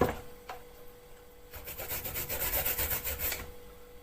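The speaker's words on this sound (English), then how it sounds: "4 or 5 carrots, depending on how sharp your grater is." Carrots scrape against a blunt hand grater in a close rhythmic rasp of about eight strokes after a brief quiet start, with no speech.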